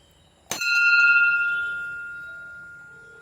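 A single bell at an old Mahadev temple is struck once, giving a bright metallic clang that rings on with a long, clear, slowly fading tone in a quiet setting.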